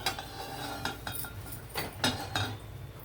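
A cooking pot is shifted onto the neighbouring stove burner, giving several light metallic clinks and knocks spread irregularly across a few seconds, close and moderately loud in a quiet kitchen.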